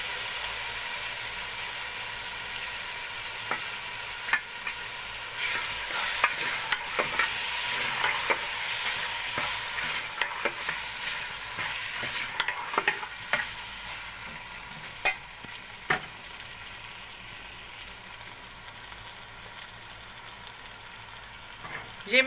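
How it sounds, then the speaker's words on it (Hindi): Potatoes and chopped spinach (aloo palak) stir-fried in a pan at home, a steady broadband sizzle running throughout with repeated scraping and clinking of a spoon stirring against the pan. "अब इसको थोड़ी देर भून लूँगी"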